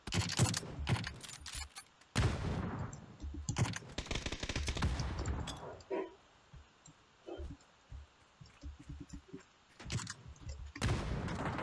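Rapid gunfire and explosions erupt from all sides during a PUBG match, dense bursts of shots and blasts crowding together, then thinning into scattered nearer and farther pops before another loud barrage.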